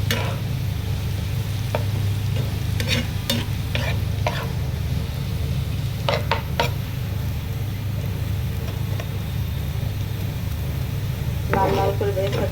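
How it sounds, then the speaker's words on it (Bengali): Thinly sliced onions fry in oil for beresta, turning light brown, under a loud, constant sizzle and low rumble, with occasional clinks of a stirring utensil and a voice faintly in the background. "লাল লাল করে বেরেস্তা করে নেব, যেন না পুড়ে একটু হালকা বাদামি হলেই আমি নামাই ফেলবো"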